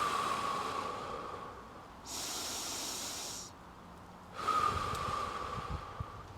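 Slow, deliberate breaths during a core breathing exercise: a close, airy hiss of breath in two long strokes separated by a pause, with no talk over them.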